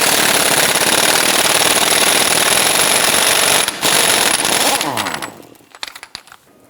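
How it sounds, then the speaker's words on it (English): An impact gun rattles loosely for several seconds while a 32 mm bottom nut comes off the steering knuckle of a 1997–2006 Jeep Wrangler, then cuts out and leaves a few scattered clanks as the loud burst dies away. "We're going to use our impact gun, loosen and remove this nut."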